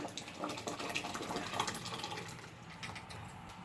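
Water pours steadily into a cooking pot of mashed cooked toor dal for Karnataka-style Mysore rasam, a continuous splashing gush heard close and fairly quiet with no talk.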